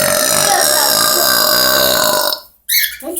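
A pet bird lets out one loud, sustained, harmonic burp-like croak lasting about two seconds, followed by a short pause and a brief sharper squawk.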